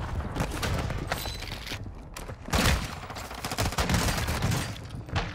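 Rapid bursts of automatic gunfire from a shooter video game with a sniper build, loud and close, in dense volleys with a short pause midway.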